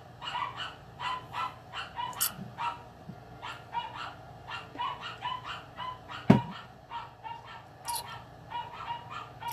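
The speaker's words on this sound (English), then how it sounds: "Dogs, dogs, dogs." Dogs bark repeatedly in the background of a quiet indoor room, with short, rapid barks in uneven volleys. Some are moderately loud, others more distant.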